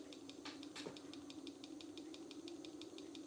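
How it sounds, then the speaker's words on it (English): Steady rapid clicking from a TriField meter during a live PSI experiment, evenly spaced ticks repeating about five times a second over a constant low hum and hiss, faint and continuous. "The clicking you can hear is actually the trifield meter."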